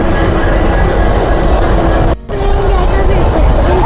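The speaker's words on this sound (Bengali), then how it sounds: "স্টেশন থেকে ট্রেন ছেড়ে দিয়েছে, আমরা এখন বেরিয়ে যাচ্ছি" Long-distance passenger train rolling out of Howrah station, heard from inside the coach as a loud continuous rumble and rattle with a brief dip partway through, while people talk under the noise.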